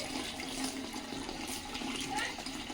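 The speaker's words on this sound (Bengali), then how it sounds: "তো গাছটা এই মুনমুন জল এদিকে ওভারফ্লো হয়ে যাচ্ছে" Water pours steadily from a tap and overflows in a home vegetable garden, making a continuous close-up rushing splash with no break.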